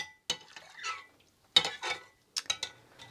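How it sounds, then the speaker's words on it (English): A caustic soda lye solution with coconut oil is stirred in short bursts, the utensil clinking and scraping against the container close by, separated by silent gaps. "And just keep giving this a little stir to help the coconut oil."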